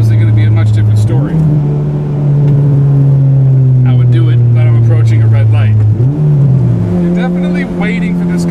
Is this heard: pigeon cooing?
no